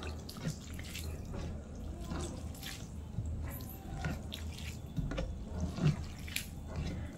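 Water is poured into a plate of panta bhat (wet rice), giving a soft, close trickle and scattered drips over a low, steady background.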